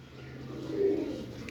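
A single soft, low pigeon coo rises briefly over a steady rumbling background, close and fairly quiet.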